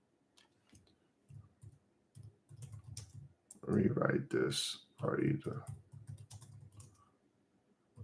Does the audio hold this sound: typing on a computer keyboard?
yes